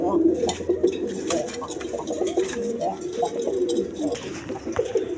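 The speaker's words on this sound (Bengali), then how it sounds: "দর্শক এখানে এক পেয়ার হাই ফেলিং গিরিবাস কবুতর আছে" A pair of high-flying giribaz pigeons coo in repeated soft, throaty bursts, close by, with a voice talking over them throughout.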